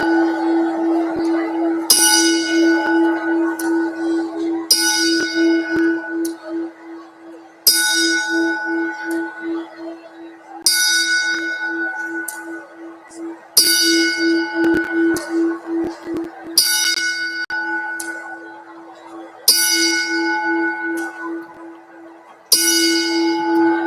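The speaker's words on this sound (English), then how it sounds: "Please join us for a moment of silence in our traditional 10-bell salute." Traditional ten-bell salute at a wrestling tribute show, a bell struck at slow even intervals, each loud clang ringing out and decaying before the next, with nothing else heard.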